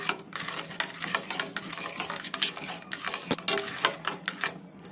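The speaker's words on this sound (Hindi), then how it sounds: "इसको इसमें ऐड कर देते हैं और अच्छे से मिला लेते हैं चम्मच से।" A spoon stirs tomato soup with red chilli and salt in a pot, giving steady scraping and clinking strokes that repeat rapidly and close by for the whole stretch, with no voices.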